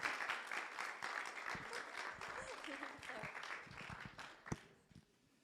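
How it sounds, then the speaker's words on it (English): Applause from a church congregation, a steady patter of many hands that thins out toward the end, with some voices audible under it and a few last separate claps. "Let's give her a round of applause."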